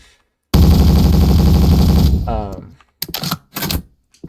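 An automatic gun in a video game under development fires a fast, steady burst for about a second and a half, loud and close, then cuts off; someone talks briefly afterward.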